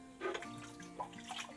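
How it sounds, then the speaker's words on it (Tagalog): Water splashes and pours briefly, as if being drawn from a well and poured from a bucket, against a faint steady hum. "Sa balong ito naman siya kumukuha ng tubig."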